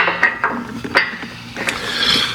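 Ratchet tightening bolts on a Westin Outlaw step bar being fitted to a 2021–2024 Ford Bronco, heard as a few separate clicking and clanking bursts close by, with no talk.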